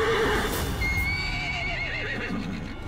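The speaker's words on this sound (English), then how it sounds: "Hey, a regular horse." A horse whinnies loudly and close in Metal Gear Solid 5: The Phantom Pain, with a long wavering neigh over a dense background of game sounds.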